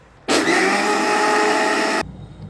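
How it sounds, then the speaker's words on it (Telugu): A mixer grinder whirs loudly for about two seconds, blending a batter with yogurt into a paste, starting and stopping sharply against a quiet room. "ఇప్పుడు ఇది మనం మిక్సీ వేసేసుకున్నాం"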